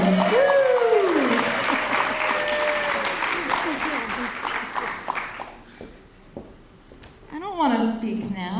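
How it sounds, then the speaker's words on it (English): An audience at a Santa Ana College convocation breaks into applause, a dense wash of clapping and cheering that gradually fades, with a voice speaking over the start and after the clapping dies down. "let's give her a rounding applause, Amberly Chamberlain."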